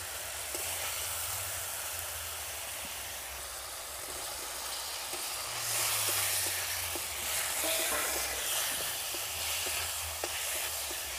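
Spice masala frying in a pan with boiled potatoes for an aloo curry, a steady close sizzle with occasional stirring scrapes that grows louder partway through.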